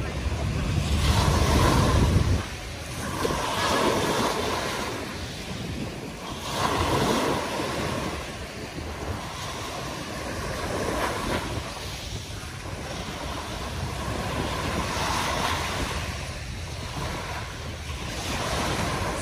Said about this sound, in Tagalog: makikinig na lang ako ng hampas ng alon dito sa Dalampasigan